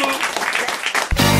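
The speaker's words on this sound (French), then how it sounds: "Et on vous applaudit." An audience applauds on a French radio program, a loud, dense burst of clapping that cuts off after about a second as a different loud sound takes over.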